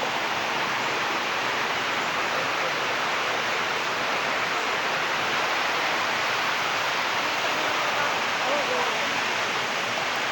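River water rushes steadily where women wash laundry on the bank, a loud, unbroken broadband flow filling the whole stretch.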